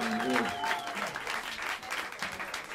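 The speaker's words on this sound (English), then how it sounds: "On the drums, a big round of applause for the great Joe Farnsworth." Audience at Smalls jazz club in New York City applauds the drummer of a live trio, close, lively clapping filling the room for a few seconds, with a faint speaking voice briefly over it.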